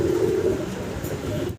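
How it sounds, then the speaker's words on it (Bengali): A pair of double-XL Black Shoking pigeons coo in a cage, a low, steady, rolling burble that continues close by for about a second and a half before cutting off. "ডাবল এক্সেল সাইজের এক পেয়ার ব্ল্যাক শোকিং কবুতর দেখাচ্ছি"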